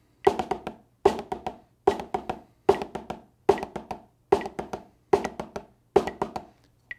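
A drum rudiment on a practice pad or snare led by the left hand, eight evenly spaced groups of quick strokes, each group opening with a sharper accented hit, close and clear with no talking.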